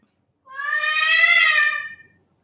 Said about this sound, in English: my cat actually has a speech sound disorder, I think. He cannot meow properly.